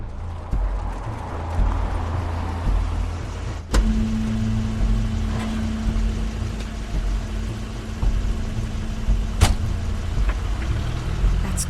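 Crane's car from the game The Wolf Among Us rumbles with a steady engine drone, broken by a sharp door-like thud partway through and another crisp click later on.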